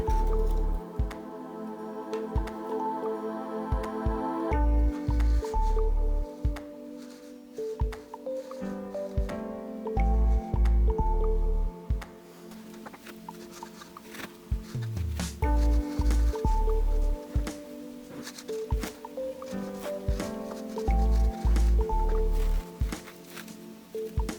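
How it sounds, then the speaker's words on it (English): Sisal fibre is pulled apart and pressed into a peat pot Easter basket close up, giving repeated soft squishy crackles and rustles with brief thumps in an uneven rhythm, no voices. "I'm just going to pull apart some of this sisal fibre and push it into the Easter basket"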